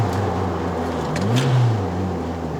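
A 1996 Mitsubishi Lancer Evolution VI, a Lancer conversion running about 1.2 bar of boost, revs up on the road, its engine note rising and swelling near the middle before settling back into a steady drone.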